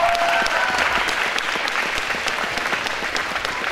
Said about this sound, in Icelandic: Gefum þið gott klapp.